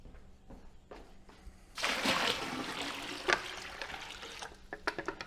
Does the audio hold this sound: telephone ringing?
no